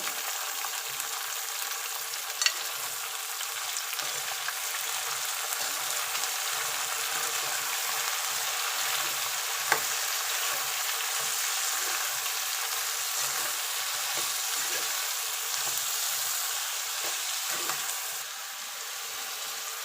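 Sliced onions with salt fry in a pan for a Bombay-style chutney, giving a long, even, close sizzle with occasional soft stirring scrapes and no speech.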